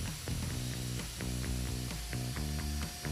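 A router bit cuts plywood with a loud, steady whine and rhythmic pulsing as the tool moves along the cut.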